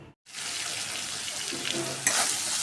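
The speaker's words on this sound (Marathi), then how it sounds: "आपण आता कांदा घालून घेणार आहे छान असा लालसर होईपर्यंत परतवून घेऊया त्याला" A loud, steady hiss of onions frying in hot oil in a wok, crackling continuously with a brief drop to silence near the start and a louder surge at the end.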